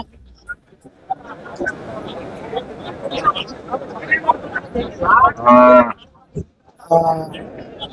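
Cattle, including a large HF (Holstein Friesian) cow, moo loudly nearby at a livestock market, two long calls in close succession, with people chatting in the background.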